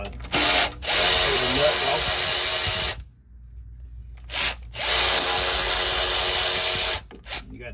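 A 10 millimeter socket tool works on an EZGO gas Robin golf cart engine, loud and close in two long whirring bursts separated by a short quiet gap, with brief starts and stops at the edges and no talking.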